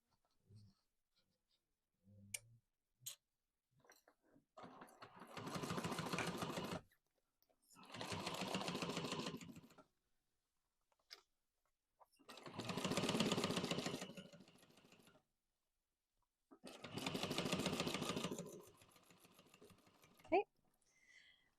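A sewing machine runs down the seam of a messenger bag in four steady bursts of a few seconds each, with quiet pauses and faint handling clicks between them.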